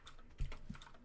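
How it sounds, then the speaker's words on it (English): Someone types on a computer keyboard nearby, tapping quickly and unevenly with a few heavier key strikes, faint behind the room's background. "I hear the typing away"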